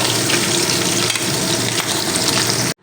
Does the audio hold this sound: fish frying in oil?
yes